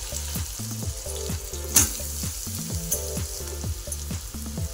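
Soybean chunks frying in hot oil give off a dense, steady sizzle with bubbling crackle throughout, over a repeating low tonal pattern in the background.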